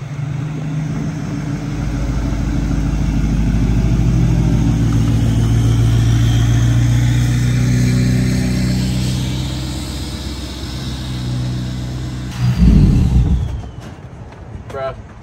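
Lifted Chevy dually truck on 30-inch wheels driving, a steady low engine drone and road rumble heard from inside, swelling slightly before a brief thump near the end.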